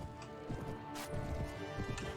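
Horse hooves clip-clop steadily in the Mount & Blade Warband game, a busy mid-level stream of thudding steps amid battle clatter, with no clear speech over it.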